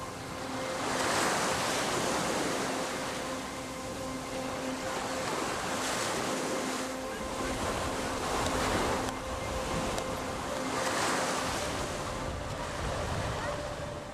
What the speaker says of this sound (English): the ocean's currents can be violent, and the wind stirs the water's surface